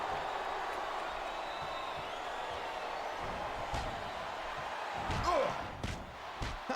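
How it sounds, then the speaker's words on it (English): Arena crowd murmur and roar from the WWE SmackDown vs Raw 2008 wrestling game fills the background steadily, swelling slightly near the end with a few thuds from the ring. "Sounds like this crowd's got something on their minds"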